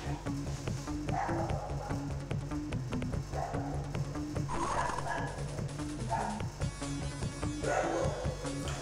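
Dogs bark repeatedly in a SEGA video game, short yapping barks in bursts layered over steady game music.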